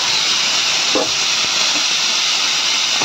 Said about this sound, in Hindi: इसको मैं पहले फ्राई कर लेती हूँ।